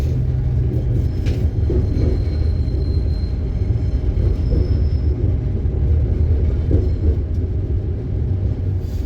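A cross-country train in England rumbles steadily along the tracks, a continuous low roar with faint rattles and a brief metallic squeal.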